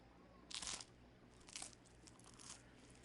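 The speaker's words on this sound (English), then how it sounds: "They actually got the sound of crunchy bread." Crunchy bread being bitten and chewed in the video game Final Fantasy 16, three short crisp crunches spaced about a second apart, faint and alone over a low hum.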